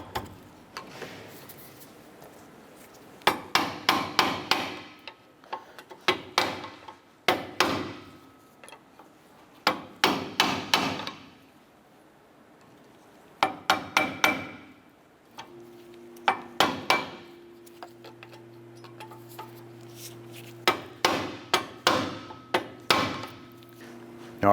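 A pry bar taps repeatedly against the backing plate of a seized front brake pad on a 2008-2012 Honda Accord, giving sharp metallic knocks in uneven bursts with pauses between, close and fairly loud.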